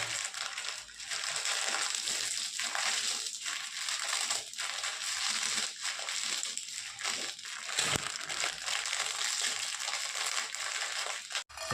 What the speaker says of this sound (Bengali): ভাঙবো আমি ম্যাগি গুঁড়ো গুঁড়ো করে।